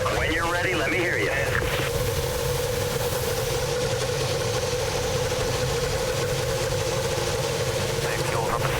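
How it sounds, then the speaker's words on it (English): IndyCar race car engines run at the 2011 Indy Grand Prix of Sonoma after the start command, a dense layered rumble of several engines idling and blipping, with a voice over a loudspeaker heard through it. "Drivers, start your engines."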